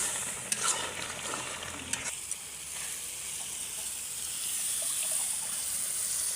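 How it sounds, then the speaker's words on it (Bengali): Broth pours into a pan of frying spiced beef lung curry, starting as a bright hissing splash and settling into a softer steady sizzle and bubbling, close and alone. "এখন দিয়ে দিলাম ঝোল।"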